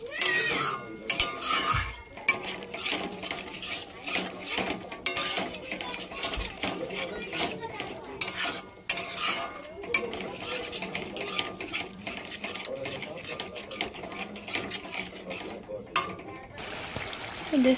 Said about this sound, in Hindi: इसे इस तरीके से हम रेगुलर चलाते रहेंगे।